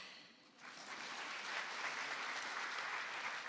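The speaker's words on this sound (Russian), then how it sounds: "Похлопаем." Audience applause at a theatre awards ceremony, the Tantana prizes, swelling from a quiet start into steady, dense clapping from a large crowd.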